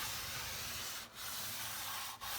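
Steady abrasive rubbing of sandpaper on a vintage aluminium bicycle part in long continuous strokes, with two brief pauses as the hand resets.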